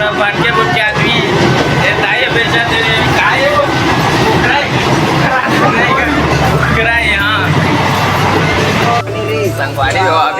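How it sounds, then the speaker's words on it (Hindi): A passenger train rolls along steadily on a journey in India, its continuous rumble and rattle loud throughout, with people chatting and murmuring over it. "अभी हमन अभी ट्रेन के सफर करते छन"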